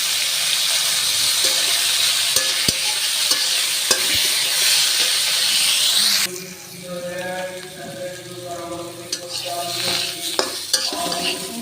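Vegetables seasoned with salt, turmeric and chili powder drop into a hot pan, a loud steady sizzle that abruptly quiets to a softer crackle with light clinks of a utensil stirring.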